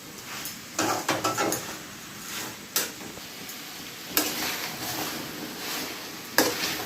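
Mutton being stirred in a pan over a high flame, with scraping clatter from the spoon against metal and a few sharp clinks over a soft, steady sizzle close by.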